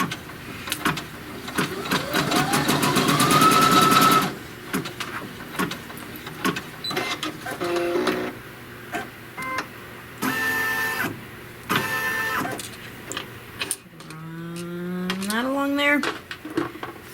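An embroidery machine stitches a seam line on a fabric leaf, a rising motor whir followed by choppy bursts of needle movement, clicks and pauses, close by with a softer closing run.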